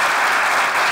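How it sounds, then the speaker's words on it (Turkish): Studio audience at a comedy show bursts into loud, dense applause, a continuous close wash of clapping filling the short moment without any voices. "Ben bir alkış alalım ya."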